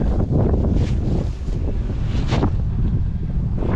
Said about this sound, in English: A little windy today, as you can tell.